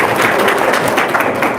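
Dense, continuous applause from an audience, loud and close, a steady crackle of many hands clapping with no pauses.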